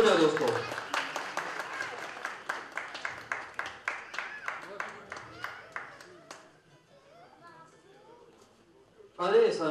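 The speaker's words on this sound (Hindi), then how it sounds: "जोरदार तालियां हो जाए दोस्तों" An audience at an international award ceremony claps loudly in a steady rhythmic beat, then the applause thins and dies away before talk starts again at the end.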